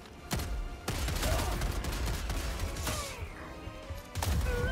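Shotgun fire in the video game Helldivers 2, several sharp loud blasts spaced irregularly across the clip, with rumbling battle noise filling the gaps.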